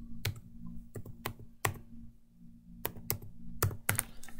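A phone number typed on a computer keyboard, about a dozen sharp key clicks in uneven bursts with a short pause mid-way, close but quiet over a low steady hum.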